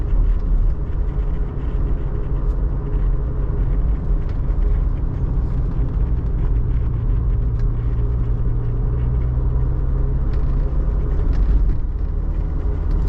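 Cabin of a 1993 Toyota MR2 in fourth gear with the windows up, filled with a loud, steady low engine drone and road rumble throughout, no talking.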